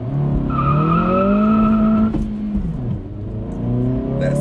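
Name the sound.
2023 Acura Integra accelerating in a 0-60 run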